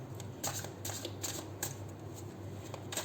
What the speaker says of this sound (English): We'll do 7 shuffles